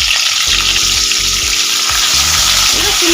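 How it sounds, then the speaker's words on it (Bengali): Flat beans fry in hot oil, giving a loud, constant sizzle close by, with low pulsing bubbling beneath and no talking. "এই তেলের মধ্যে সিমগুলো ভেজে নেব"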